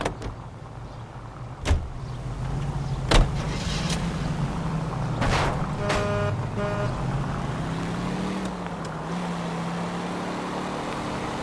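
Commandeered car driving in the L.A. Noire game, a steady engine drone rising and falling in pitch as it accelerates, with a few sharp knocks and thuds over the continuous road noise, no talk.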